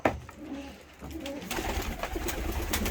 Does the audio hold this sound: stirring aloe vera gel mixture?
no